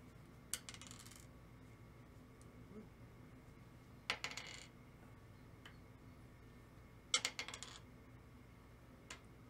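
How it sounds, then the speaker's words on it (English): Dice rolled during a tabletop game of Unearth: three short, faint clattering rattles spaced a few seconds apart in a quiet room. "I'm gonna re-roll all my dice."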